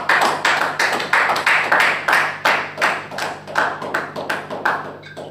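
Congregation in a French-speaking church service applauding after a scripture reading, a steady ripple of many hands clapping at close range with a rhythmic, pulsing swell, with a faint low hum underneath.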